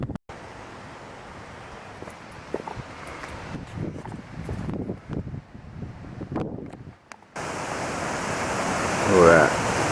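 Fall Creek Falls, Tennessee, pours in a broad, steady rush of falling water. The roar stays fairly constant, with wind buffeting and bursts of nearby talking over it, and grows louder near the end.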